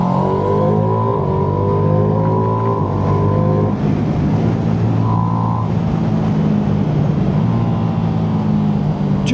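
A 2025 Ducati Streetfighter V2 motorcycle engine with its airbox roars loud and close, revving up and down through rising and falling pitch in continuous acceleration, no voices.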